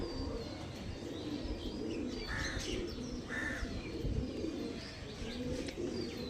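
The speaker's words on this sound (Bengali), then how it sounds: "পায়রা দেখো শুধু আমি কিছু বলবো না পায়রায় কথা বলবে" Pigeons coo softly in a loft, low throaty rolling calls repeating under a busy background of rustling and scattered chirps, moderately close but fairly quiet.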